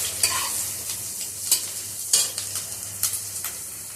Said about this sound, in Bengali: এই যে এখনো আমার ভাজা হচ্ছে